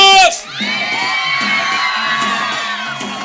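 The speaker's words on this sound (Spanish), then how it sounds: "¡Aplausos para los primos!" Crowd at a show cheering and shouting with whoops and high children's voices, loud and close, following a short burst of music at the start.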